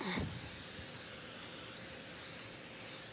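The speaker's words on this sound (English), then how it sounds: "I'm going to spray my pan, and then we are going to put these right inside" Aerosol cooking spray hisses onto a pan for grilling ribeye in one long, steady burst, close by and fairly loud, with no talking.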